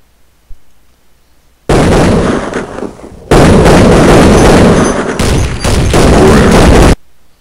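Dense bursts of video game gunfire erupt suddenly and loudly, with rapid overlapping shots over roughly five seconds, a short pause and then another sustained barrage before cutting off abruptly.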